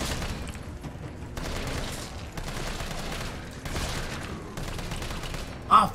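Rapid bursts of gunfire from the Resident Evil 3 remake video game, sustained volleys in several waves over a constant noisy bed, with a short sharp louder hit at the very end.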